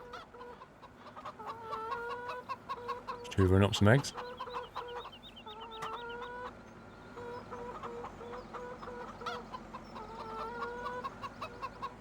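Chickens cluck repeatedly in the Farming Simulator 17 video game, a steady stream of close, rhythmic fowl calls with a brief louder burst partway through, while someone talks over them.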